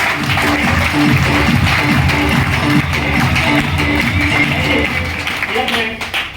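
Sustained applause from an audience for the chief guest at a DTM leadership program event in Gurgaon, Haryana, steady clapping filling the hall with voices mixed in underneath.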